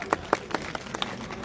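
Scattered, separate hand claps at a constituency party workers' meeting in Rajouri, coming in a loose, fairly quiet run of single claps rather than a dense roar, with no speech over them.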